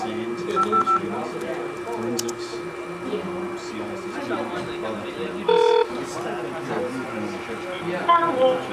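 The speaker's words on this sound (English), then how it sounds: "one can trace route and actually even place a call using voice over IP" DTMF telephone keypad tones dial out for a voice over IP call placed over an EVDO network link, a short tonal burst standing out midway over steady background hum and murmuring talk.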